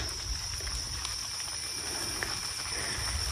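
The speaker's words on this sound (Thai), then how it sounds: "ฝนจะลง ใช่ใช่ฝนตก พี่พี่ลองฟังเสียง" Even, steady hiss of rain falling outdoors, a constant wash of patter with a faint high insect-like whine over it.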